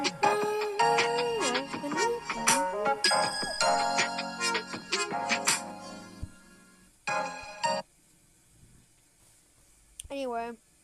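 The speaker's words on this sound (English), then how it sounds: "if you really want to know more about this ringtone, listen to it on your own terms" A Samsung ringtone from 2020, a bright chiming melody of layered synth tones that plays loudly for about seven seconds, then a short burst and a brief sweeping tone after a pause.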